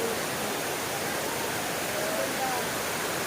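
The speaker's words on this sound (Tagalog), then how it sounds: "running water" Steady rushing water flows into a natural spring pool at Baggao Blue Water in Cagayan Valley, a constant broadband wash that fills the whole stretch without pause.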